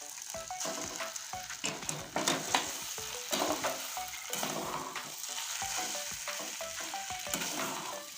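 Taro leaves (kochu shak) fry in a pan with a close, continuous sizzle, broken up by rhythmic scraping and clacking from a spatula stirring steadily throughout, with no voices.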